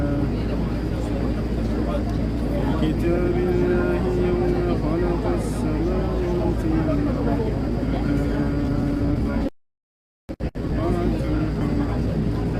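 A loud, steady engine drone rumbles throughout while being carried toward a plane at an airport, with voices talking faintly over the continuous hum.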